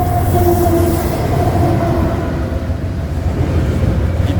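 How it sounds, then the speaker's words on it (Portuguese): A train rolls past close by, loud and continuous, with a heavy rumble, rhythmic wheel clatter and a faint high wheel squeal. "Olha o trem passando do meu lado."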